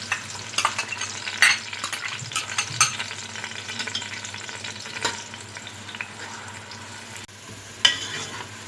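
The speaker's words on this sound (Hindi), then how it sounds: "अब इसमें प्याज ब्राउन कर लेंगे।" Onions browning in about one and a half cups of hot oil with cardamom and bay leaves for haleem, a steady soft sizzle with occasional stirring scrapes and clinks.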